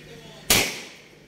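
A single gunshot during shooting practice: one loud, close, sharp report with a decaying echo, set against a low, steady background.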